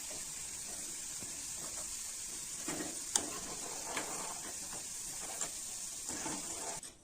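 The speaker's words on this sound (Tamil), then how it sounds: "நம்ம போட்ட பிரண்டை எல்லாம் இந்த மாதிரி பொறிஞ்சு வந்துருச்சு" Pirandai (adamant creeper) fries in oil with a faint, steady hiss and a few soft stirring scrapes and light knocks, quiet and close.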